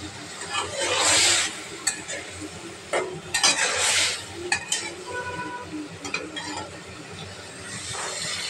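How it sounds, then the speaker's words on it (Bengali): Onion and green chili paste is stirred and fried in a pan for a tengra fish curry, a loud sizzle swelling and easing with repeated metal scrapes and clinks of a spatula against the pan. "এখানে 2টা পেঁয়াজ আর কাঁচামরিচ পেস্ট করা দিয়ে দিলাম।"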